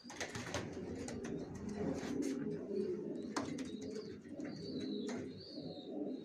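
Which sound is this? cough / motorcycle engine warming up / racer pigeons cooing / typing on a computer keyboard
racer pigeons cooing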